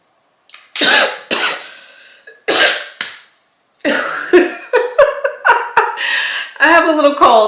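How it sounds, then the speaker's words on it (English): A person with a cold coughs several times in sharp bursts, and throat clearing, short vocal sounds and a little speech follow close behind. "I don't know if that cough was from too much fragrance"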